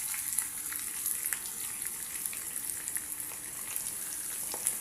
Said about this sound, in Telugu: ఇప్పుడు వీటిని అయితే లైట్ బ్రౌన్ కలర్ వచ్చేంత వరకు వేగనివ్వండి